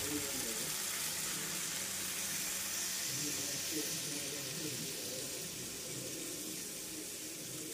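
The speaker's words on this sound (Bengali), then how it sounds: "নারকেলের দুধটা দিয়ে দিচ্ছি।" Coconut milk poured into a pan of egg korma cooked with spices, heard as a continuous steady hissing, splashing pour that holds at an even level for several seconds with a faint voice in the background.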